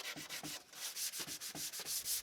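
2000 grit sandpaper gently rubbing over a plastic car headlight in quick, even back-and-forth strokes, a soft close-up scratchy swish repeating about every quarter second with no talking.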